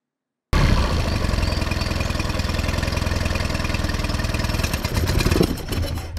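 A Mercury 9.9 four-stroke outboard engine runs steadily and loudly at close range, its continuous drone holding for several seconds before roughening and faltering near the end as it begins to stall.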